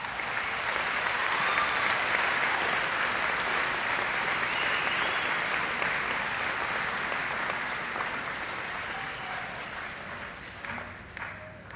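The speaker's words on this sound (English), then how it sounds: "please join me in a round of applause for the graduates" Sustained applause from the crowd at a 2010 Case Western Reserve graduate diploma ceremony, dense and even, slowly fading toward the end.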